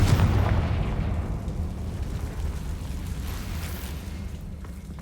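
A Confringo fire spell bursts in the Hogwarts Legacy video game, a loud, deep booming blast at the start that rolls into a long, rumbling decay with no talking.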